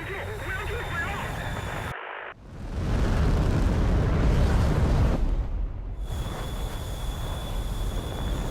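A missile explosion in a jet combat video game with a J-10 fighter: a sudden loud broadband blast that swells into a sustained roaring rumble for several seconds over steady engine drone, with a voice talking throughout.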